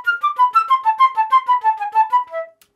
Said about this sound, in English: Getting effortless, clean articulation on the flute is a huge challenge.